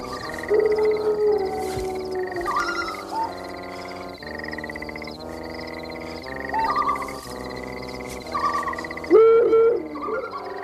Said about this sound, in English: Though the snow owl hooted, Claude did not heed its warning.